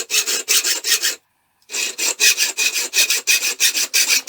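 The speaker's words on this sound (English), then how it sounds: "From there I put them in the vise and I cut them with a hacksaw." A hacksaw cuts pieces clamped in a vise with quick, rhythmic back-and-forth strokes, a harsh rasping burst of several strokes, a short pause, then a longer steady run of strokes, close and loud with no talking.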